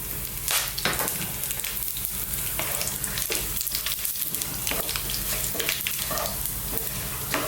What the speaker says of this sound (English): Just let them go in that oil just for a few minutes.